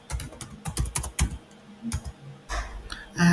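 Fingers tap out a short burst of keystrokes on a computer keyboard, close clicky presses in quick irregular clusters with brief pauses between them.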